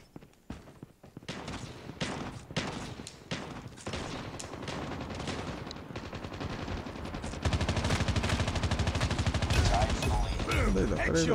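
Rapid bursts of automatic gunfire crack repeatedly in the mobile shooter Call of Duty Mobile, played with a gamepad, loud and close, building into a dense continuous volley near the end, with a voice talking briefly over the shots.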